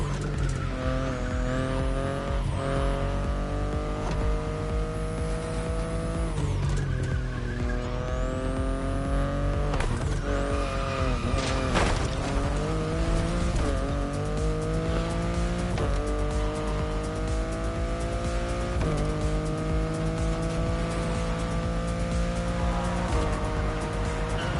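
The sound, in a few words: car driving and tire squeal in video game The Crew Motorfest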